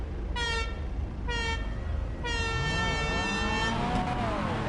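Car horn honking in GTA, a drift event in Orlando on PS5: three loud tonal honks, two short blasts then a longer held one, followed by engine revving and tire squeal as cars launch.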